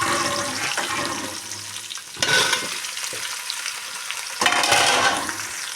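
Mint, tomatoes and onions fry in a pan for tomato chutney, a loud continuous sizzle that surges twice as ingredients hit the hot oil or are stirred.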